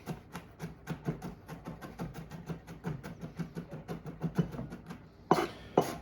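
Knife mincing on a cutting board with a rocking motion, a quick steady run of soft close taps, then a couple of louder scraping strokes near the end.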